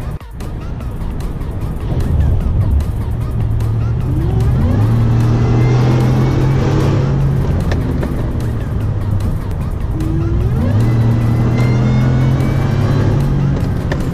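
A 2018 Ford F-150 with a 5.0L V8 and Whipple supercharger pulls hard from inside the cab, its engine note climbing in two long acceleration runs with a rising supercharger whine, loud and continuous throughout.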